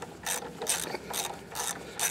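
A socket being rotated by hand while reinstalling a lawn mower spark plug, giving a steady series of close, crisp ratchet clicks in regular bursts, with no talking.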